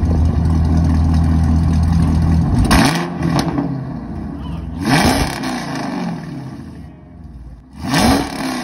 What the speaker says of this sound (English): With the MBRP exhaust and with the Cooks headers, my car actually sound real good.